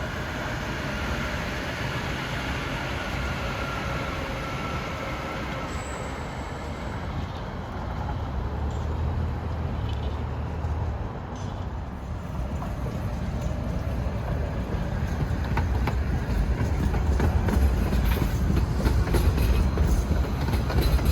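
A New Jersey Transit Hudson Bergen Light Rail train runs along the tracks near West End Avenue, a steady close rumble with rail clatter that swells slightly toward the end, no talking.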